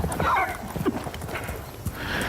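A horse on a ranch clip-clops with quick hoofbeats and gives a short neigh as a cowboy tries to break it, loud and close with little talk over it.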